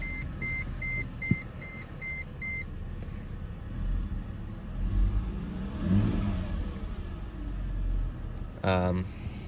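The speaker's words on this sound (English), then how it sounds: "You can hear that V6." A 2006 Mercedes-Benz C230's V6 engine idles and revs with a low rumble, following a repeating beeping chime; brief muffled voice near the end.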